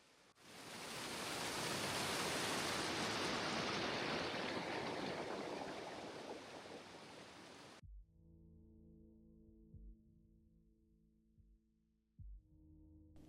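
Steady, loud roar of an 87-meter waterfall in Croatia fills the first eight seconds as a broad wash of falling water, then cuts away to a quiet low hum with a few soft thumps.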